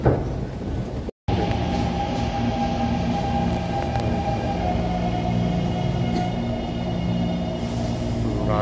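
Train ride in Taiwan: a steady, loud rumble of rail cars rolling along the track with a broad low roar and faint wheel squeal, continuous throughout apart from a brief cut near the start, no talking.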